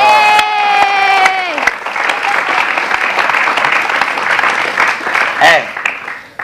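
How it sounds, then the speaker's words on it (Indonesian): Studio audience applause for Ayu Ting Ting on a television talk show, a full burst of clapping and some cheering that rises and holds for several seconds while voices carry over it. "Ayo, tepuk tangan dong buat Ayu Ting Ting."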